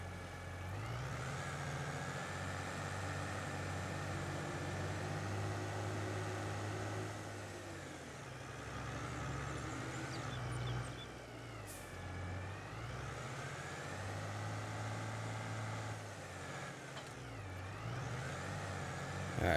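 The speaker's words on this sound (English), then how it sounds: "We'll use our new tractor." A farm tractor pulling a baler in a farming video game runs with a steady, close, low engine drone for about twenty seconds, rising and falling slightly in pitch, with no talking.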